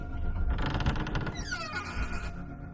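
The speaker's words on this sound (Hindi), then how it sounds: "स्टोर रूम का दरवाजा खोला" An old storeroom door creaks open in a long, strained, wavering groan that rises and bends in pitch, loud and close, with no voices.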